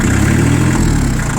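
A Japanese Shibaura P21F 4WD compact tractor engine idles on hand throttle, a steady low rumble with a faint rhythmic chug that holds even and close throughout.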